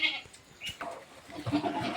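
Sheep and lambs bleating in short, wavering calls at a sheep pen in light rain, a few overlapping cries at moderate distance, fairly quiet.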